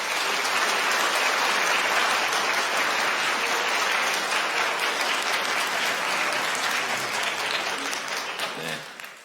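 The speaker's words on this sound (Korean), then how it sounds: "여러분들 따뜻한 환영의 박수 부탁드리겠습니다." Warm welcoming applause from a church congregation during a Sunday worship service fills the space, dense and steady throughout before tapering off at the end.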